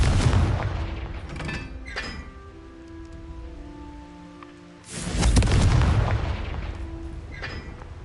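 Confringo fire-spell blasts in Hogwarts Legacy, two big booming explosions with crackling, rumbling tails, loud and close, separated by a quieter stretch of fading rumble and faint tones.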